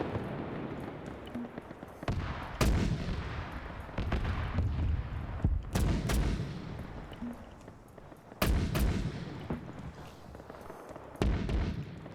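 Artillery strikes in an Arma military campaign, a series of heavy booming impacts arriving every couple of seconds, each a sharp loud blast trailing into rumbling decay.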